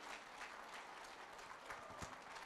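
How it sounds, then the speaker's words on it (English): Audience applause at a STEM festival opening ceremony, steady and fairly faint, a continuous wash of clapping from a crowd with no talk over it. "Let's give them a round of applause."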